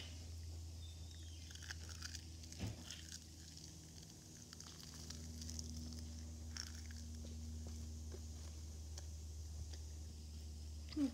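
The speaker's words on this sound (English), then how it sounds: "Listen, hear that munching sounds." Sunflower-type seeds are munched close up in a quiet room: soft, irregular crunches and little bites repeat across the stretch, faint and intimate against a low background hum.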